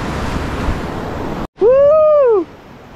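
Ocean waves at sea off Busuanga, Palawan, during a lure-fishing trip: a rough, steady broadband wash fills the first second and a half, cuts out abruptly, then a short rising-and-falling tonal whine follows over quieter background.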